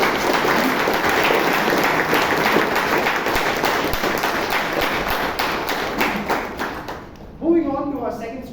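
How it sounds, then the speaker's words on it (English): A Toastmasters meeting audience in Bangalore gives a long, even round of applause for a speaker, the dense clapping filling the room for several seconds before thinning out and a voice starting to speak. "Can we give a huge round of applause for Rajdeep?"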